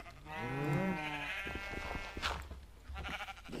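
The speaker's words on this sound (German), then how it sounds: "Jetzt haben wir wieder ein Schaf, das sterben muss." A sheep in Minecraft bleats in a wavering, pitch-sliding cry, then blocky game sounds and clicks follow in a quiet, clear mix.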